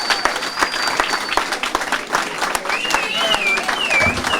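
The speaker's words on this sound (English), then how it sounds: "give a round of applause for these young men and their effort of being successful" An audience at an awards ceremony applauds steadily for young male honorees, dense clapping from a crowd with whistles rising over it.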